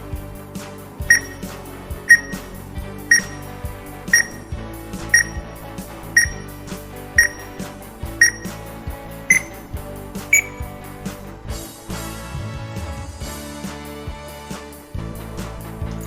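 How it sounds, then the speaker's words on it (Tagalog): A quiz countdown timer ticks steadily with regular bright beeps about once a second over a soft musical bed, then gives way to a denser buzzing sound near the end. "Your timer starts now."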